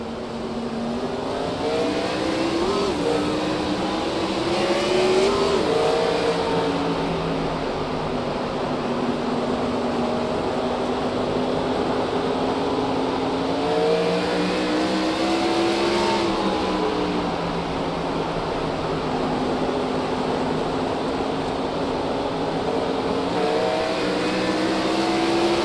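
Gen 6 race cars roar at Nashville Fairgrounds, a loud pack of engines climbing and dropping in pitch as they accelerate, a sustained close rumble with no talk.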